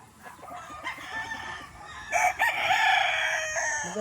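A rooster crows loudly and close by, a long drawn-out call over a background of softer clucking and farmyard noise.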